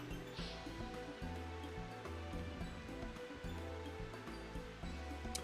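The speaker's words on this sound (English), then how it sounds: "It just started raining." Rain falls steadily in Final Fantasy XIV, a faint, continuous wash of noise like a waterfall, running quietly under the game's looping background music.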